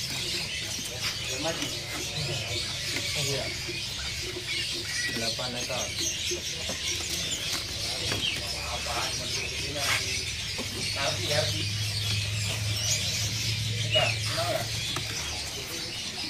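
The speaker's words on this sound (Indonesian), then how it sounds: "burung jongkangan nih" Jongkangan birds, a stock of them for sale in a bird shop, chirp and tweet in short bright calls over a steady background hum, with talking mixed in throughout.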